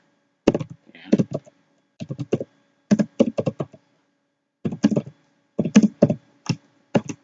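A name being typed on a computer keyboard: quick clusters of close, crisp key clicks in short bursts separated by brief pauses, with no talking.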